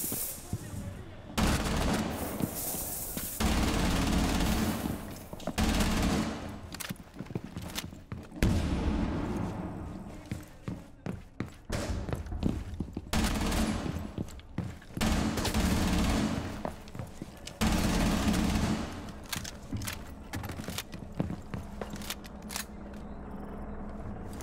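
Ela's Scorpion submachine gun in Rainbow Six Siege on Xbox fires in repeated rapid full-auto bursts, loud and close, separated by short pauses.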